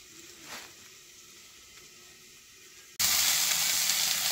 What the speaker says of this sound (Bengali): লাই শাক ভাজা করবো,